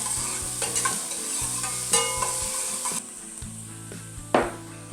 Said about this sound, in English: Next, we're gonna saute for about 1 minute to give them some color and flavor.